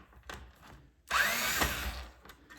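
A power drill backs out screws from an Irritrol Total Control timer terminal board: one close, whirring burst lasting about a second, after short faint clicks.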